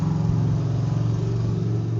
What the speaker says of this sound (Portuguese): Desculpa aí o barulho da moto.